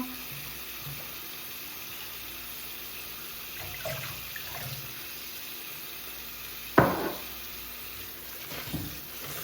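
Water splashes and trickles into a bowl for soaking, with a sharp pouring burst partway through, over a steady hiss of background noise.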